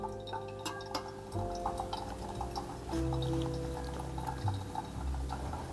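Pour-over coffee brewer swirled after water is poured onto the grounds, a soft close liquid slosh with faint glassy clinks and tonal hum, quiet and alone.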